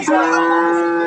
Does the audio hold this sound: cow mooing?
yes